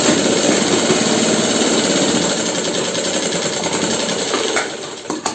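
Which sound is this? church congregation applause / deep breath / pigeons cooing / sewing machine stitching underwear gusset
sewing machine stitching underwear gusset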